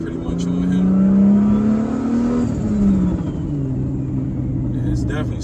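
A Lexus IS300 with a swapped 2JZ engine pulls under acceleration while driving, a loud rising drone that climbs, then drops and settles into a steady rumble, with a voice talking over it.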